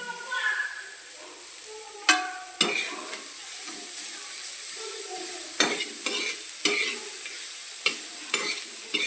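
Onion sautéing in a pan for Maharashtrian vangyache bharit, a steady sizzle and fry with repeated utensil stirring clinks and scrapes throughout, close and moderately loud.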